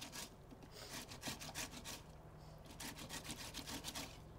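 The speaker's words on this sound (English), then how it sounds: "and just grate it right on in" Tomato halves grated by hand over a grater, a soft, faint, rapid rasping of repeated strokes close by, with a low background hum.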